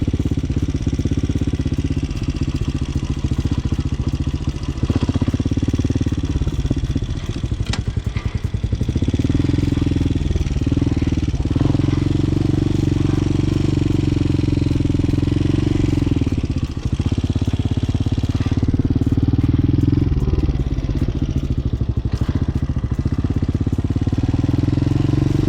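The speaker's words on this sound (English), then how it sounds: "Get the bike a little bit more warmed up" A motorcycle engine runs steadily while warming up before a practice session of skill exercises, loud and close throughout with a continuous low rumble, small revs and dips, and no talk over it.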